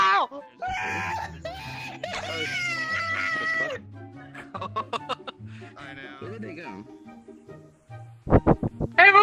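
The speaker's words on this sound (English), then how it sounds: "stop screaming. We can hear you upstairs." Loud, strained screaming and wailing voices fill an online VR chat session, crowding together with shouted talk and ending in harsh bursts.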